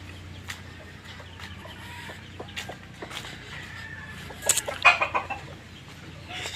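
Hens and young chicks cluck and peep on a backyard poultry setup, scattered soft calls over low background hum, with a louder cluster of clucks near the end.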